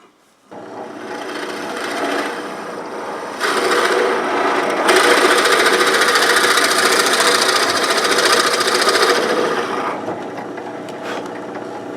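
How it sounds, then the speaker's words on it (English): A drill bores into a wooden kendama part, producing a loud continuous grinding, rasping whir that rises and intensifies midway through and keeps going for about twelve seconds without talk. "the drill bit is wanting to move, and it's moving around"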